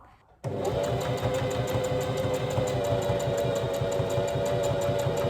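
A sewing machine stitches a buttonhole, starting abruptly after a brief quiet moment and then running steadily with a fast, even mechanical clatter close up, with no talking.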